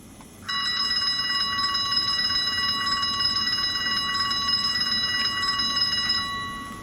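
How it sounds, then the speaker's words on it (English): A continuous rapid metallic startup warning bell from a Rapido Alco FA model locomotive rings steadily for about six seconds, loud and close, then fades slightly at the end. "so that's the warning bell for startup"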